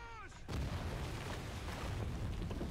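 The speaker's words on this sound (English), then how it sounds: "Michael Bay presents another explosion. Wall breached." A wall blasts apart from placed explosives in the video game Shadow of War, a loud sustained roar of rumbling debris after a brief voice, filling the rest of the moment.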